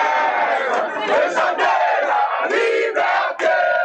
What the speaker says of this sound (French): une foule nombreuse l'acclame en guise de félicitations